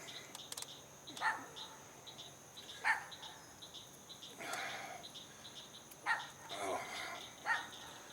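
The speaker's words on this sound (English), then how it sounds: "damn dogs." Dogs bark in short separate bursts, several barks spread over the stretch at moderate distance, against a steady high chorus of crickets and insects outdoors near a fishing spot.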